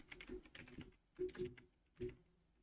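Typing on a computer keyboard while writing Rust code, heard as clusters of close, soft key clicks in short bursts with brief pauses between them.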